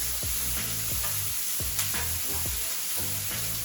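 Calamari sizzles steadily on a hot grill, a continuous hiss with a few soft scrapes and clatters from the pan and utensils, close and fairly loud, with no voices.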